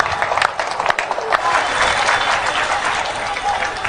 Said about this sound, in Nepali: जोरदार ताली अनुप सरके लेल।